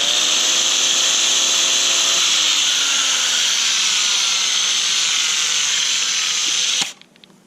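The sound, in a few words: grinder running, sounding slow and struggling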